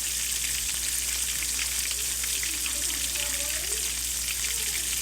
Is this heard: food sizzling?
yes